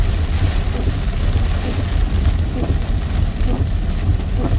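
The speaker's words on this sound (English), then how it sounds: "this rain is not going to stop" Heavy rain heard from inside a moving car, a steady dense wash of drops drumming on the body and windshield over a low road rumble, continuous and close.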